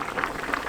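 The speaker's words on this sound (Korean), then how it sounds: "뚜껑 닫고 센 불로 끓입니다." Braised chicken with aged kimchi bubbling in a covered pot over high heat, a steady soft simmering hiss with small popping bubbles throughout, close and moderately loud with no talk.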